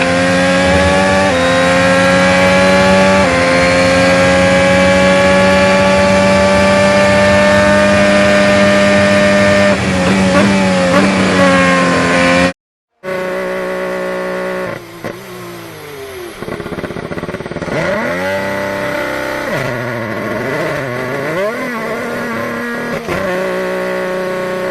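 Formula 1 race cars at the Japanese Grand Prix in the F1 22 game, engines screaming loudly and continuously, a sustained high whine that cuts out briefly, then returns with rising and falling revs as cars pass.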